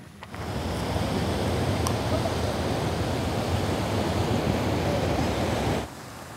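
Waves wash in steadily on the long, shallow Fukuma beach, making a broad, continuous surf rush mixed with wind that holds evenly for several seconds and then drops away.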